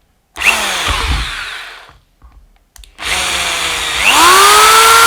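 An impact drill whirs loudly in two bursts separated by a short pause, the motor pitch climbing sharply as it speeds up near the end.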